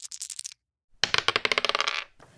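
Dice tumble and clatter in a tabletop roll-the-dice game, a quick burst of bright rattles, then a pause before a longer run of rapid hard clicks and bounces that settles, close and clear with no talking.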